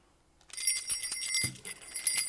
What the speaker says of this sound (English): My bell's making a lot of noise today.